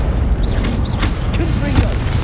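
Rumbling blasts from the Bombarda explosion spell in Hogwarts Legacy, a loud, booming, low-heavy roar that carries on with crackling debris throughout.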